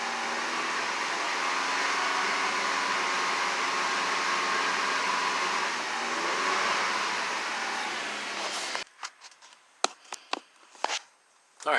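A Nissan Altima engine fitted with new ignition coils held at steady revs with the gas pedal down, a loud continuous broadband roar for about nine seconds, then cutting off abruptly to a few scattered clicks and knocks.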